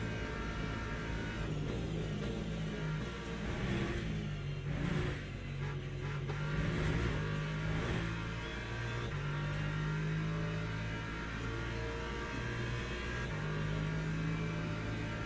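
An LMP3 prototype race car in the Le Mans Ultimate sim passes with a steady, droning engine note that rises and shifts through the revs, loud and continuous, with no voices over it.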